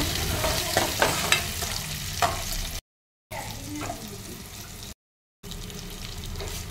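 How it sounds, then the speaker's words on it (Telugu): Curry leaves fry in oil in a pan with a crackling sizzle broken by sharp pops and stirring scrapes, and the sound cuts out in two short silent gaps. "ఈ కరివేపాకు అయితే 2 నిమిషాలు బాగా వేయించుకోవాలన్నమాట"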